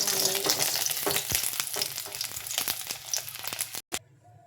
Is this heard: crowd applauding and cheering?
no